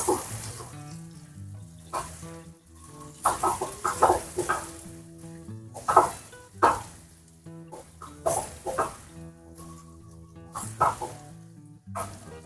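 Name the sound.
onions sautéing in leftover chicken-frying oil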